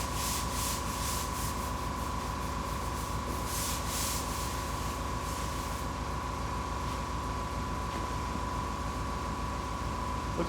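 Steady, continuous abrasive rasping of Bondo body filler being sanded on a 1976 Trans Am, loud and close, with a faint tonal whine running underneath and no pauses or talk.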